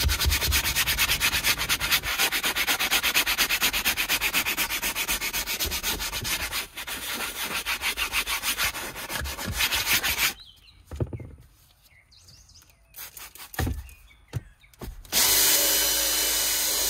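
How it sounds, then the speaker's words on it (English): A power drill brush whirs loudly against a cloth car seat in a steady grinding scrub, then stops and starts in short bursts near the end. "you can use a drill brush attachment"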